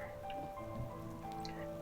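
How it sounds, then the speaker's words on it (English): Steady soft rain patters across the whole stretch in the video game Night in the Woods, joined by low ambient game tones, with no one speaking. "It's wet again, and I'm cold again. It's just rain."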